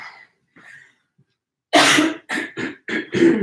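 After a few quiet breaths, a person close by breaks into a fit of coughing: four or five harsh, rapid coughs in quick succession.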